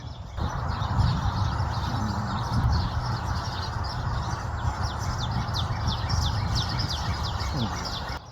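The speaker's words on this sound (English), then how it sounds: "Hear all the birds around?" Many small birds chirp and tweet steadily around a squirrel eating sunflower seeds outdoors, with a dense, continuous chorus of calls at moderate distance over a broad background wash.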